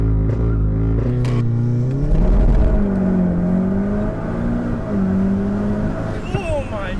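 An APR Stage 3+ tuned VW Golf R launches under launch control, its engine roaring loud and close from the cabin as revs climb through successive gears with brief dips at each shift, and a whine rising on top.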